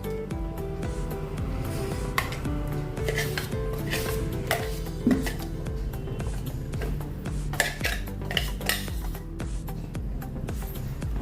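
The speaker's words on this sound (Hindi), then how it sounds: "अभी यही बर्तन में हम निकाल लेंगे।" Smooth ragi dosa batter is scooped into a metal pot, with repeated scraping of a spoon against steel, light clinks and knocks close by, no speech.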